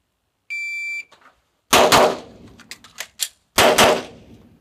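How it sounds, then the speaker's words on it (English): Two sharp, loud pistol shots follow a shot-timer beep, then a quick reload using the slide release with small metallic clicks, then two more close shots in succession. "I'm going to shoot 2, reload, shoot 2, and we'll see what that time is between the reload."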